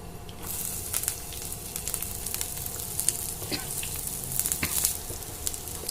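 Onions frying in hot oil with curry leaves, a steady close sizzle with scattered crackles and pops throughout, no voices.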